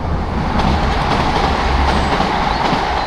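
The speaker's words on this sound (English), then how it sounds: "There's a train just about to shoot by." A train rushes past beside the canal near Avon Cliff, close and loud, a steady dense roar of wheels and rail noise holding for the whole stretch without any talk.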